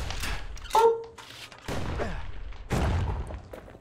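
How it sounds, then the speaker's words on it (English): An exploding plant bursts in the Bastion game with a couple of sharp, thudding blasts, close and punchy, separated by brief gaps and layered with other game effects. "it's just an exploding plant"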